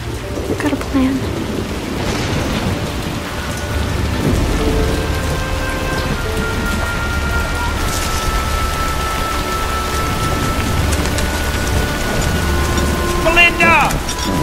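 Heavy rain pours steadily and loudly with deep rolling thunder rumbling underneath throughout, a dense, continuous storm wash close by.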